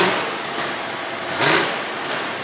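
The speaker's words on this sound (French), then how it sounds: "Un moteur de Suzuki." A Suzuki engine runs at a hay-harvest parade in Saint-Narcisse-de-Rimouski, a steady, moderately loud hum that briefly swells midway as it revs or passes.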